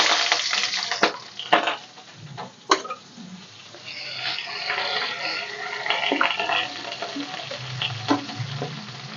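Chopped onion frying in a pan of hot oil with mustard seeds and cumin, a steady close sizzle broken by sharp stirring scrapes and clinks, no voices.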